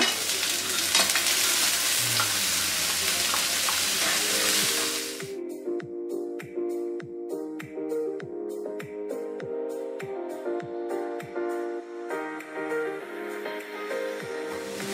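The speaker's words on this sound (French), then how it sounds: "Une fois que j'ai fait revenir les oignons, je viens ajouter mes poivrons" Bell peppers tossed into sautéed onions in a Monsieur Cuisine Smart cooking machine: a loud hiss at first, then a quieter simmer with a regular series of stirring clicks and rattles from the turning blade.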